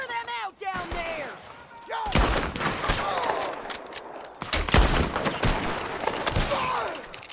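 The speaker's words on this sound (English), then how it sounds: "Am I shooting my shotgun? Oh, shooting my bolt action." Bolt-action rifle shots crack out in Red Dead Redemption 2, several loud reports at irregular intervals amid other gunfire and shouting voices.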